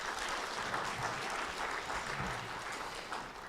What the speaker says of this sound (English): Can we give Moses a round of applause?